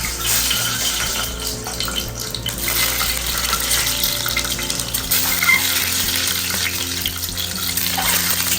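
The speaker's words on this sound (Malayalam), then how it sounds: "അപ്പോൾ നമുക്കിനി ഇതിനകത്തേക്ക് എഗ്ഗ് ഇട്ട് കൊടുക്കാം." An egg frying in hot oil in a pan gives a loud, close, continuous crackling sizzle. Faint clinks and watery hiss run through it, and no one speaks.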